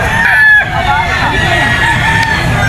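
A gamecock stag rooster crows at a busy pet market, a strained, wavering call heard close amid crowd murmur and background speech.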